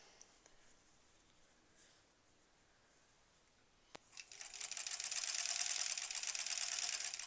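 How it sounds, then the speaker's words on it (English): A sewing machine stitches quilt blocks for a granny squares quilt, starting after a quiet pause and a sharp click, then running as a fast, steady, close mechanical whir to the end. "So it stays lined up, and then I'm ready to sew."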